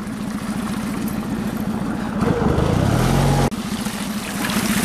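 An outboard boat motor runs steadily on a mountain river, a loud pulsing drone that briefly changes pitch and surges midway before settling back to its even throb.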